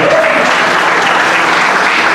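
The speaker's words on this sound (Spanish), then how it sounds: "Aplauso al Señor." A church congregation claps loudly during a sermon, a close, dense and steady burst of applause with no pause.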